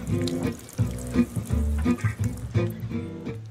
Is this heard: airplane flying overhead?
no